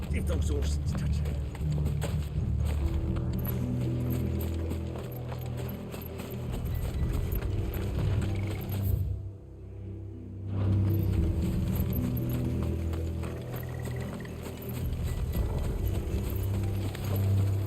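Horses' hooves clip-clopping and running in the video game Final Fantasy XVI, rhythmic hoofbeats blended with game music and effects while voices talk over them.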